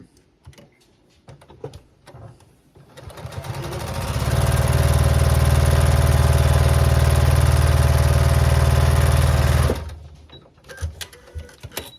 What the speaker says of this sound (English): I'm going to line this up on the edge of the piece I just sewed down. I'll line that there, and then I'm just going to sew that.